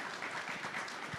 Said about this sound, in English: Again, applause